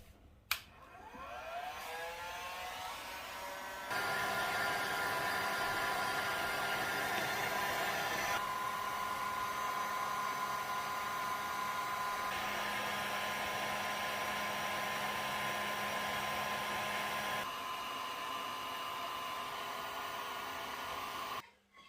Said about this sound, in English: we're going to use the heat gun to simply melt the crayon into the gap